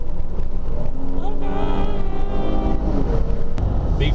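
A 2015 Jeep Cherokee Trailhawk engine rises in pitch as the vehicle accelerates, heard from inside the cabin as a steady climbing drone while someone speaks over it.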